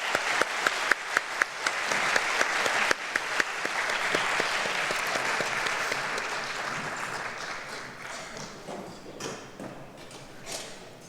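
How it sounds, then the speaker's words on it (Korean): A church congregation applauds after a choir and youth orchestra performance. Dense clapping from a crowd begins with a few sharp, distinct claps, swells into a full wash, and then slowly fades over several seconds. "박수 한번 할까요?"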